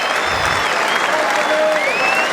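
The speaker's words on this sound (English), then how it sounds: "He's getting a standing ovation." A cricket crowd at a Test match between England and West Indies gives a standing ovation for a bowler's five-wicket haul, with sustained, loud, dense applause throughout and faint voices mixed into the clapping.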